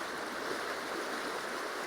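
The River Tweed streams past a sandbank in a steady, broadband rush of flowing water, close and continuous with no voices.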